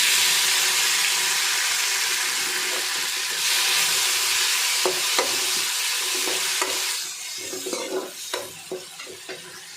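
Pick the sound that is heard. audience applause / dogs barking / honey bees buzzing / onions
onions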